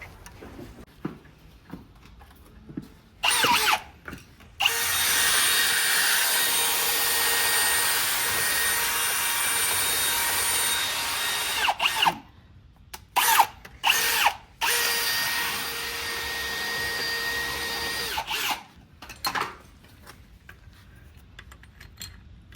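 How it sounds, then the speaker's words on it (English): A power drill bores out a hole in the subframe of a boosted E36 M3, running in several long sustained whirring bursts separated by pauses, close and loud. "we're gonna grab the drill and open up this hole"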